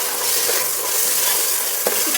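Tomatoes sizzling in a pan with ginger garlic paste for prawn biryani, a steady close hiss of frying with a brief clink of a utensil near the end.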